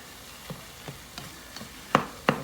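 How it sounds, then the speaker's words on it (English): Weenies frying in a pan and being stirred, with a faint sizzle under a handful of soft scraping strokes that grow sharper and louder toward the end. "I gotta mix it up so that it doesn't burn."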